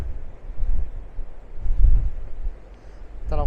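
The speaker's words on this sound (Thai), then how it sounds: "ลมแรงมากแล้วลมมันก็พัดทรายกับน้ำทะเลไอทะเลขึ้นมา" Strong coastal wind at the Cape of Good Hope buffets the microphone in loud, uneven gusts, with low rumbling surges rising and falling over a few seconds and no talk.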